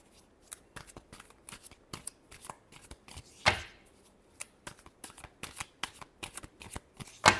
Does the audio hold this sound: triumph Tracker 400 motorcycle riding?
no